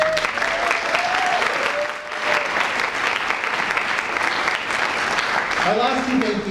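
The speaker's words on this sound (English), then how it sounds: "it's a little weird to give your professors a round of applause too" A room full of people at a fall speech night gives their professors a long, loud, dense round of applause. A few voices briefly rise over it, and the clapping stays steady throughout.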